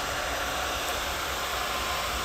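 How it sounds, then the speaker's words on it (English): A handheld blow dryer runs steadily and loudly throughout as damp hair is blown dry during a round-brush blow-dry, its broadband rushing airflow holding constant with no speech. "Make sure you don't point the blow dryer directly at the root."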